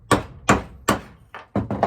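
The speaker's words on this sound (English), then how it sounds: "split kindling." Sharp, loud chops ring out as an Evansville axe splits kindling wood, five strikes spaced roughly every half second, each with a crisp woody crack and short ring.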